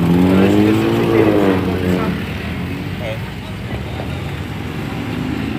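Motorcycle engines rev and drone through busy street traffic in Kuala Lumpur, a loud whine rising and falling up close, with a voice talking over the noise.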